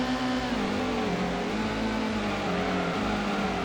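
A Subaru engine in the video game Gran Turismo 1 drones steadily and loudly at high revs during a 4WD race, with slight pitch dips as it shifts gears.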